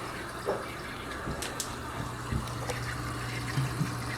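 Water trickles steadily through a homemade aquarium trickle filter, a continuous soft splashing wash with a low pump hum beneath and a few brief louder drips.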